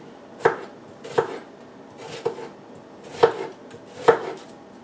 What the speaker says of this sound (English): Half an onion, and we chop that real quick.